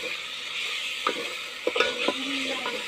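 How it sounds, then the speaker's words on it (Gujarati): Tomatoes and spices sizzle steadily in a pan, with several scraping knocks as they are stirred around. "ટમેટા ને બધો મસાલો ઘડીક પાકે ત્યાં સુધી આપણે આમ હલાવતા રહેવાનું"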